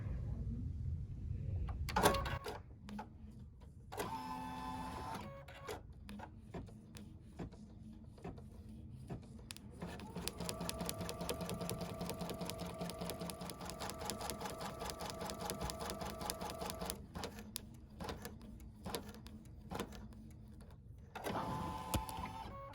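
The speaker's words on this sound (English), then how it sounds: "And then embroider the basting stitch color number 1" An embroidery machine stitches a basting stitch through a towel, a fast rhythmic mechanical whir with steady needle ticking, pausing briefly before running continuously, quiet and close with no talk.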